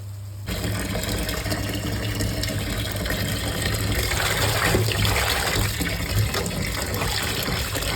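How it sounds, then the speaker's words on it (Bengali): Cut taro stolons are swished and washed by hand in a bowl of water, a close, continuous sloshing and splashing that starts abruptly and carries on with uneven surges, no talking. "লতিটাকে সুন্দর করে 2-3 বার করে জলে খলখলিয়ে ধুয়ে নিচ্ছি"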